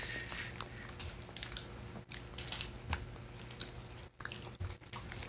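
Close chewing of a Clif bar: soft, moist mastication and bites in an irregular rhythm, quiet and near, with no talking.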